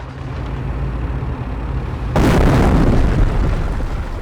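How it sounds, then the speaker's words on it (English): Incendiary artillery rounds in Company of Heroes: a rumbling low roar that bursts into a sudden loud, broad explosion midway, then a sustained crackling, fiery wash that slowly fades. "Incendiary rounds on their way."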